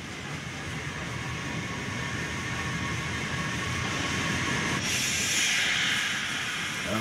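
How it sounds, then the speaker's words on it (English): A steady, loud rumble and hiss from an early-morning train at a small rural station fill the whole stretch, swelling slightly as it passes close by. "And there's the early train to take them on."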